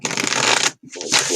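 Tarot cards shuffled during an intuitive reading: a dense, close riffling rush for about two-thirds of a second, a brief pause, then a second burst of shuffling.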